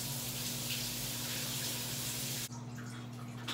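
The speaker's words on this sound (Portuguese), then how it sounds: "E eu lavo com um chuveirinho porque eu acho melhor." Steady rush of water from a handheld shower head spraying onto hair, continuous and close, with a brief shift in the flow partway through and no talking.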